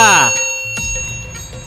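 A bright notification bell sound effect chimes, followed by a second softer ding, with a voice speaking at the start.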